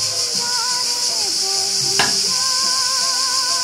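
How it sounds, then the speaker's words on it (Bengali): Bitter gourd frying with shrimp in a pan gives a steady bright sizzle throughout, with a sharp clatter of a utensil near the middle and faint tonal background sounds. "এটা রাখি না, এভাবেই ভাজতে হবে।"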